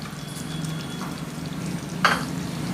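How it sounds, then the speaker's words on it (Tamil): Mushroom kulambu stirred in a hot pan, a steady sizzling bubble with a soft scrape of a spoon and one brighter clatter near the end. "இதையும் நல்லா போட்டு இப்படி மிக்ஸ் பண்ணிக்கிடலாங்க"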